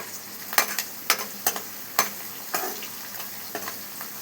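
Crushed garlic frying in a pan for an egg fry, with soft sizzling and a string of sharp spattering pops and crackles, fairly faint and close, with no voices.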